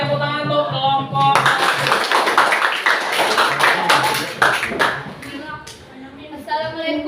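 Classroom applause for a presenting student group, a burst of many hands clapping that starts after a voice and fades into talk near the end, fairly close and dense.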